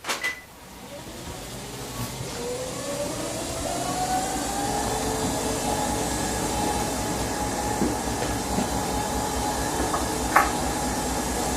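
A treadmill belt runs at about 3 miles an hour with a steady mechanical whir and faint rolling rumble that starts up after a soft knock, then holds constant near the listener with a couple of small clicks.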